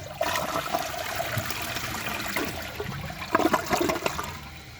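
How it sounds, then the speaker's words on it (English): A 2011 Vortens Vienna toilet flushes in a steady rushing swirl of water, rising briefly louder with gurgling near the end, close and alone with no talking. "I'm going to give this another flush."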